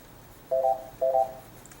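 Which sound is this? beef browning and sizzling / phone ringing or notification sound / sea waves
phone ringing or notification sound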